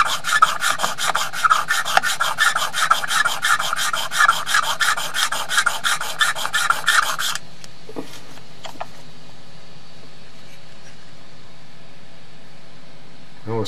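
An engraving graver rubbed back and forth on a fine sharpening stone, a fast regular rasping rhythm for about seven seconds, close and clear, then it stops, leaving faint room hum and small handling clicks.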